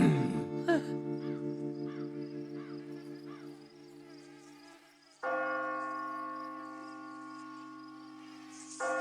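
Cartoon church bells ring, with a series of evenly spaced strokes decaying under insect-like chirps, then a sustained bright bell tone rises and holds near the end.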